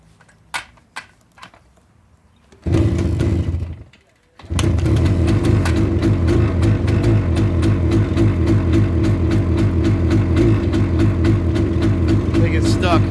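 A 1975 Suzuki T500 Titan motorcycle engine, after more than 20 years of sitting, catches briefly, cuts out, then fires and settles into a loud, steady, close-up running rhythm.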